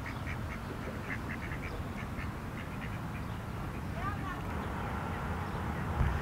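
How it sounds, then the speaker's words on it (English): Ducks quack in short repeated bursts at a moderate distance in a park, over a constant outdoor rumble, with faint voices in the background. "you can hear these ducks quacking."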